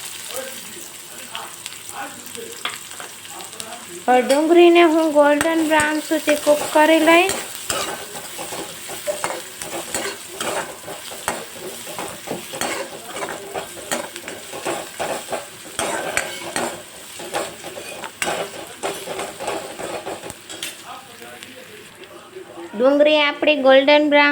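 Chopped onion fries in hot oil with cumin and asafoetida for a Rajasthani besan gatte curry, a steady sizzle broken by a spoon scraping and stirring the pan, while someone talks over it throughout.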